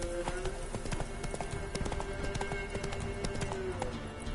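Horse hooves clip-clopping in a steady gallop rhythm as Roach is ridden in The Witcher 3 video game, close and continuous over a low background score with a brief whinny-like tone.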